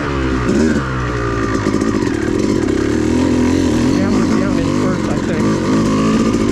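An off-road motorcycle engine holds a steady, loud drone in third gear on mountain OHV trails, with small rises and dips in pitch from throttle changes and no pause across the whole stretch.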